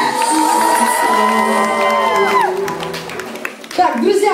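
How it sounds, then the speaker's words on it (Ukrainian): An audience at a live talk event claps and cheers, with whoops rising over the crowd noise while sustained tonal music plays loudly underneath. "оплески для себе!"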